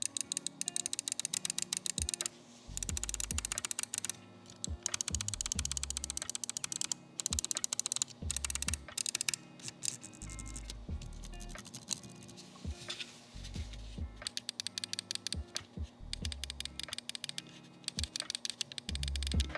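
Crisp, snappy button clicks from a SteelSeries Aerox 3 Wired gaming mouse, tapped in quick irregular bursts and rapid runs at close range with no voices.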